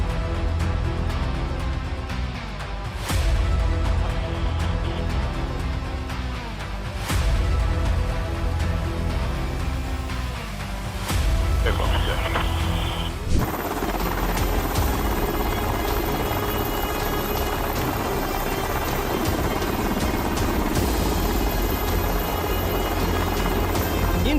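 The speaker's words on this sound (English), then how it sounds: "shipboard landings are pretty common in the Navy. However, not all landings go smoothly, and just like this one, turbulent weather can cause some serious trouble" Navy aircraft landing on a ship in turbulent weather, a loud continuous rotor and engine roar with rhythmic blade chopping that swells and shifts as it settles, heard alone without speech.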